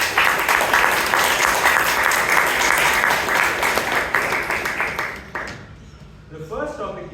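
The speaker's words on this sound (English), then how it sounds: "Let's give a loud round of applause to all those who will be coming on stage." Audience applause fills a Toastmasters meeting hall in Bangalore, a loud, dense wash of many hands clapping that holds steady for about five seconds and then drops away abruptly, leaving faint murmuring and a voice starting to speak.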